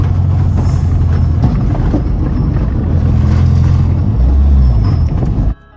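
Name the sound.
Honda Integra Type R driving in fourth gear on a rough road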